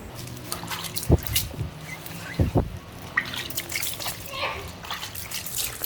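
Water from a self-service car wash sprayed to rinse a car tire, an uneven splashing and dripping spray with a few sharp knocks, heard up close.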